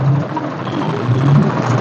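Farm tractors roll along in a Maratha reservation rally in Karad, a continuous loud low engine drone with steady hum and slight swells, heard close with no voices.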